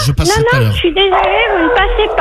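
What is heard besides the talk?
dog barking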